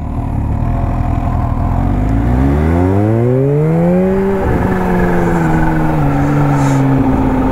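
A Kawasaki Z H2 motorcycle engine accelerates hard, its tone rising smoothly for several seconds before levelling into a steady high drone, loud and close with no talk.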